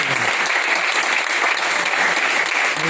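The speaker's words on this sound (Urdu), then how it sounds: "میں بھی تالیاں بجاؤں، آپ بھی تالیاں بجائیں" Full, steady applause from an audience at the closing of a three-day workshop, a dense, loud wash of many hands clapping continuously without pause.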